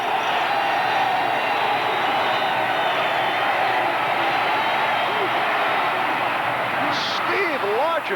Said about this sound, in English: And here comes the crowd once again